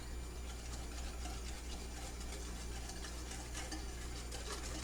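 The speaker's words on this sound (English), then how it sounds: "And we're just going to whisk that" Lemon lush mixture being whisked in a bowl, a continuous soft rustling, whirring texture at low level with no voices.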